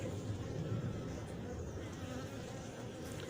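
Bees from a queenless colony drone in a steady, dense buzz at close range, continuous and fairly low in level throughout, with no talking.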